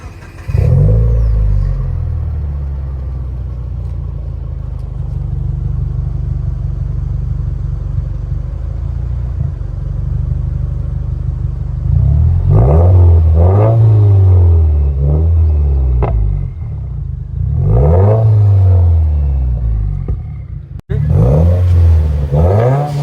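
A 2018 Subaru WRX engine on a cold start idles with a steady low rumble, then is revved several times in short bursts, each rising and falling.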